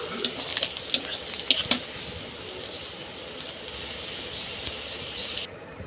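Onions frying in a pan for a bacha fish curry: a steady, soft hiss with a few sharp clinks early on, continuing evenly before cutting off near the end.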